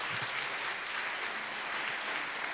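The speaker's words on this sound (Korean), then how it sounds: "우리 박수로 환영하겠습니다" Congregation applauding to welcome a visiting pastor during a Sunday church service: a continuous, even wash of many hands clapping, moderately loud and steady with no talk over it.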